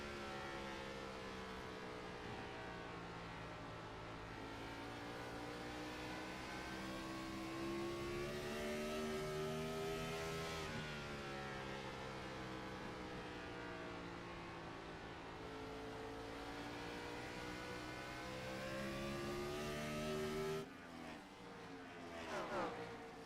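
Race car engines in iRacing at Lucas Oil IRP drone steadily for a long stretch, the pitch rising and falling as the cars lap, with a rough shift near the end.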